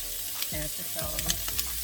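Celery tossed into a hot pan for a teriyaki beef noodle stir-fry, crackling and sizzling with a few bursts of scraping as it is stirred, close and fairly loud with no talking.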